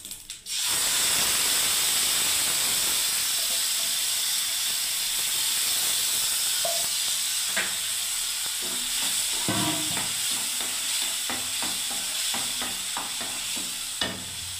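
Tomato paste bursts into a loud hissing sizzle in a pan for a sweet-sour tomato chutney, then a spatula stirs it with a run of close scraping clicks over the constant frying.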